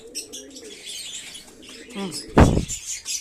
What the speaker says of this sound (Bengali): এইটারে দেখে একদম চ্যাক চ্যাক করে ডাকছে।